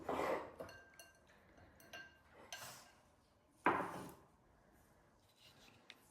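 A knife cuts boiled, peeled Yukon Gold potatoes on a board in a kitchen, giving a few soft, separate taps and clinks of blade against board, fairly close and quiet, with no talking.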